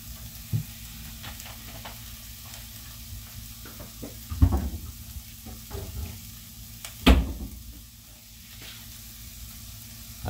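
Chicken and pancit canton noodles sizzling in oil as they're tossed together, soft steady frying under a few sharper clanks of the utensil against the pan, no talk.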